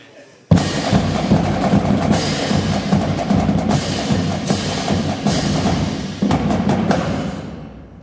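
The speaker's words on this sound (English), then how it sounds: "the percussion, and it sounds like this" Loud school percussion section playing together at a parents' concert, with crashing cymbals and booming drums in repeated accented hits, close and full, no talking.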